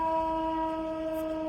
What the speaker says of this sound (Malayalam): ആ ട്രെയിൻ ട്രെയിൻ ട്രെയിൻ അങ്ങോട്ട് അങ്ങോട്ട്